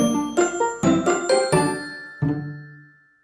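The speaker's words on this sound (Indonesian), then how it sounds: "Pakai Brimo, tiap transaksi ada notifikasi." The BRImo banking app plays its transaction alert, a bright chime of several quick bell-like tones in a short rising pattern, with a final ding that rings out and fades.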